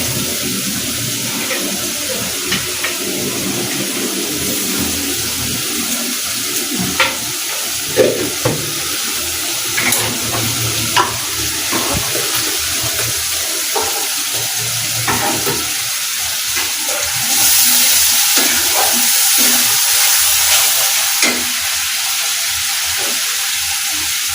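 Chicken meat sautéing with spices in a pan, a loud continuous sizzle with intermittent scraping and stirring knocks, swelling into a brighter hiss toward the end.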